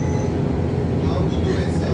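A retro tram in Antalya rumbles past close by, a steady, loud rolling drone with a faint rail hiss, no pause in the noise.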